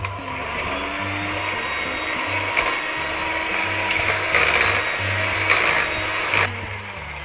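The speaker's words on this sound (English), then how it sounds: "I'm going to mix that for about 5 minutes until it becomes pale and fluffy." An electric mixer steadily whirs as it beats a sugar mixture for a pumpkin spice tres leches cake, a continuous motor drone with the beaters clattering and scraping the bowl at intervals.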